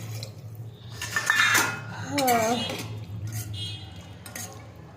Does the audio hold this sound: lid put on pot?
yes